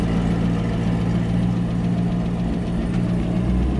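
A loud lifted Jeep engine idles close by, a steady low rumbling drone with a deep throbbing pulse and no variation over a few seconds.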